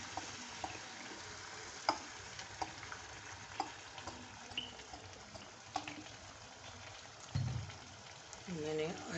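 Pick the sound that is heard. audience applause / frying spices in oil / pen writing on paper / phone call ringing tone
frying spices in oil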